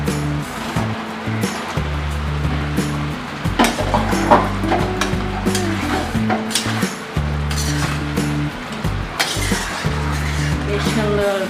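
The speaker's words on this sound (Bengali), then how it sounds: "এর মধ্যে আলুগুলো আমি দিয়ে দিচ্ছি।" Fried potatoes go into sizzling masala in a pan for paneer biryani, with steady frying crackle and clattering stirring, while background music plays throughout.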